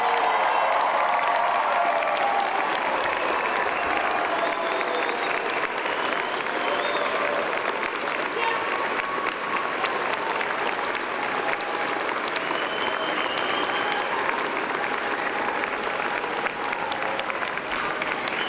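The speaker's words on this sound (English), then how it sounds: "I ask your friends and family to join me in applauding the amazing graduating class" Steady, dense applause from friends and family fills a university convocation hall for the graduating class, sustained and even throughout, with faint voices mixed in early on.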